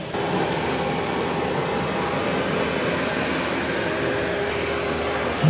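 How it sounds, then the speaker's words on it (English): Narwal Freo X Ultra robot vacuum running on carpet, a steady, moderately loud broadband whir that holds even throughout with no talking. "not too loud when it's just vacuuming"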